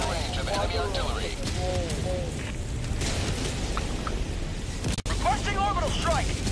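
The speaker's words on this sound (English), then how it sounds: "There's a lot of barrages heading that way." Artillery barrage explosions in the video game Helldivers 2: a continuous heavy rumble of blasts and booms under a voice warning of incoming fire.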